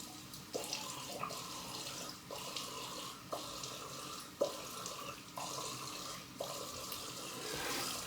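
Cold water running from a tap for a rinse, a steady rushing splash with repeated brief breaks and surges as the flow is interrupted, close by and with no voices.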